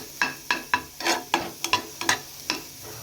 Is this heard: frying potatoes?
yes